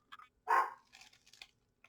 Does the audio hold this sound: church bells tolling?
no